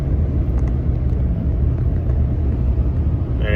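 A 2013 Ford F-150 with the 5.0 engine, its transmission faulting and downshifting as throttle eases off, heard as a steady loud low engine and road rumble from inside the cab with no talking.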